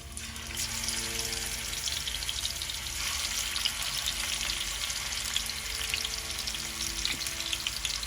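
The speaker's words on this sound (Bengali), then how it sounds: "আমাদের তেল গরম হয়ে গেছে মাছ দেওয়া হয়ে গেছে" Tilapia fish frying in a generous amount of hot oil, giving a dense, continuous, close-up sizzle and crackle that stays steady and loud throughout with no voices.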